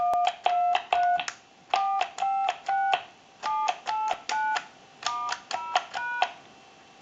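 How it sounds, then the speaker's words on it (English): Number keys are pressed on an older Mickey Mouse telephone, giving about twenty crisp, close touch-tone beeps in quick clusters separated by short pauses, with no talking. "you definitely want to have a good habit when you're dialing out these older style telephones"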